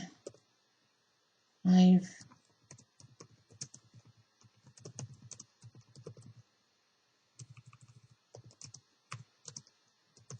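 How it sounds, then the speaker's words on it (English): Computer keyboard typing code, a quiet run of rapid key clicks in bursts with brief pauses, plus one louder knock near the start; no talking. "You learn the code really by typing it in."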